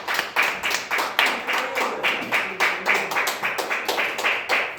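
A church congregation claps in a steady rhythmic beat to welcome a sister during a worship service in São Lourenço, the even, fairly close handclaps repeating throughout.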